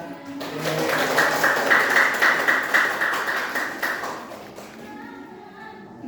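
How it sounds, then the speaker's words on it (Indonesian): Students in a sixth-grade social studies classroom clap together, a moderately loud, rhythmic burst of hands clapping in near unison that fades after a few seconds, leaving quiet room noise. "tepuk tangan"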